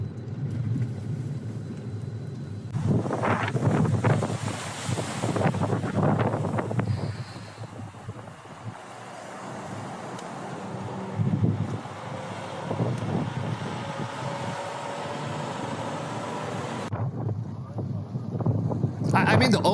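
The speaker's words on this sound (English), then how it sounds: "the ocean's wind" Strong ocean wind buffeting the microphone near a Los Angeles wildfire, loud gusty rumbling that rises and falls across the whole stretch, with people talking intermittently over it.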